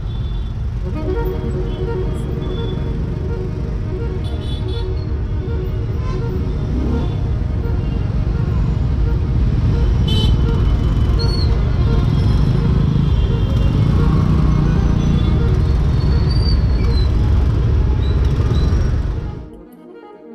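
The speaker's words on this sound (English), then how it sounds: "I'd been stuck in traffic for almost 20 minutes just to cover 5 kilometers" Heavy road traffic in India makes a steady, loud roar of engines and rumbling vehicles close by, with occasional faint horn toots, before the sound cuts off abruptly near the end.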